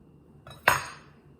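A knife cuts a test slice from a soft, unchilled pumpkin cookie dough log and lands as one sharp close knock on the board, fading quickly into quiet.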